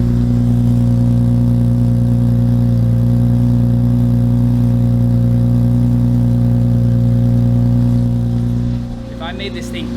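Infiniti G35 engine with a custom exhaust idling after a cold start, a loud steady low drone held close for about nine seconds before easing off.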